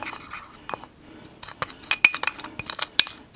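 A spoon clinks and scrapes against a glass bowl while mixing pumpkin pie spice into an eggnog pie filling, giving irregular close taps and sharp chinks, a few louder strikes near the end.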